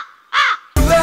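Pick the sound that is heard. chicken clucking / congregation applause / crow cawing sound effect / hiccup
crow cawing sound effect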